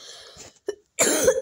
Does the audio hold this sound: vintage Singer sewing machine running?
no